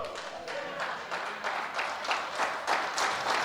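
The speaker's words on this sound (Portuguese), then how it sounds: "Esse aplauso foi aqui para a caneca." A church congregation applauding, giving a fairly close, rhythmic burst of clapping that swells slightly over a few seconds, with no speech on top.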